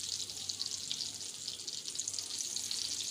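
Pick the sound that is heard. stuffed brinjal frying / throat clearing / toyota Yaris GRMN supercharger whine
stuffed brinjal frying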